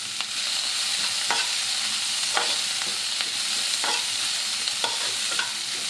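A large onion, crushed with six or seven garlic cloves, fries in oil with a constant sizzle, broken by regular spatula scrapes and taps against the pan every second or so.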